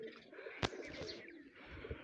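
Pigeons perched near a net give soft, muffled coos over quiet background noise. A sharp click or tap sounds briefly partway through.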